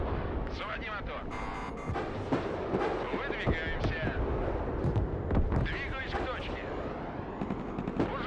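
Gunfire and heavy artillery blasts from the military strategy video game Broken Arrow boom in rapid irregular bursts, layered with constant battle noise while a player talks over it.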